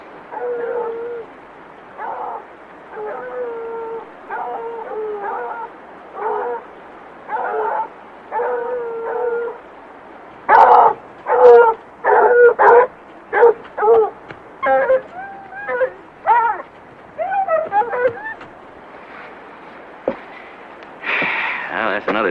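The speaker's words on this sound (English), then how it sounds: "sounds like the sheriff's dogs." Sheriff's hound dogs barking and yelping in a rhythmic series of sharp calls, some fairly close, others farther off, with short gaps between bursts.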